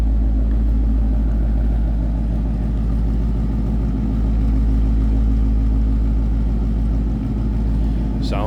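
A 2015 Ford Mustang Roushcharged GT coupe with a supercharged 5-liter V8 idling, giving a loud, steady low rumble that holds throughout, with a brief higher sound near the end.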